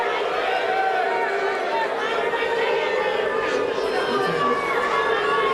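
Crowd at a junior Gaelic football final between Aghabullogue and Finuge, a steady loud wash of murmuring and jeering disapproval with no break, filling the whole stretch.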